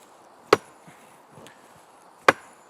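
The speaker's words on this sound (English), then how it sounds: "I use a 16-pound sledgehammer." Two heavy, sharp impacts about two seconds apart from a 16-pound sledgehammer driving a fence post into a stone wall, with quiet outdoor ambience between blows.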